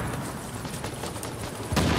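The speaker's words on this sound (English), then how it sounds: "That explosion, I thought it was just a turret." Gunfire and a blast in the video game The Division during a firefight, with a dense rattle of shots and a louder boom near the end.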